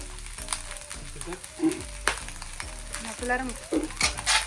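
Onions frying in a pan during a home lobster birthday feast, with a steady sizzle and occasional stirring scrapes, close and moderately loud, while a voice sounds faintly in the background.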